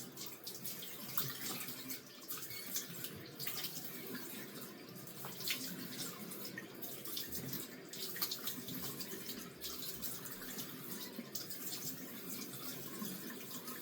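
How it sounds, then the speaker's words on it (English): Lukewarm tap water runs while a face is rinsed at a sink, a steady close splashing stream broken by irregular splashes and drips, with no talking. "Then the next step I do is I rinse my face in lukewarm water."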